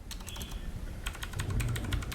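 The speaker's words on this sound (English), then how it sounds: "Now here is me typing." Typing on a Tomoko mechanical keyboard, a quick run of crisp, clicky keystrokes heard close up, with a brief pause before another burst of rapid presses.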